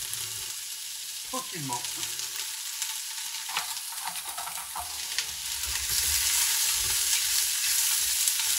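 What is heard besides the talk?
onions and carrots sautéing in a pan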